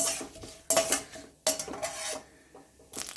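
Urad dal being stirred while it roasts in a pan, a few distinct bursts of spoon-on-metal scraping and clatter close up with a faint sizzle between them.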